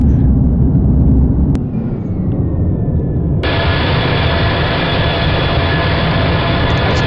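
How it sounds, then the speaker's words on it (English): Simulated Boeing 777-300ER in GeoFS roaring under full reverse thrust after touchdown, a loud steady broadband rush that brightens and intensifies partway through, with no voices. "Touchdown, full reverse."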